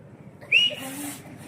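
A person whistles briefly in imitation of a pressure cooker whistle, a short rising tone that fades into a breathy hiss, over faint background murmur.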